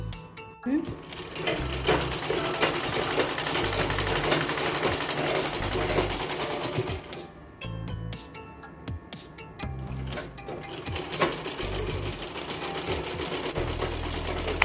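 A sewing machine stitches the side seams of a blouse in rapid mechanical bursts, loud and close, with short pauses between runs and someone talking over it.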